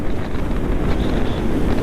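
Wind buffets the microphone on a mountain road between Manali and Delhi, a loud continuous rumbling roar that stays steady throughout with no voices.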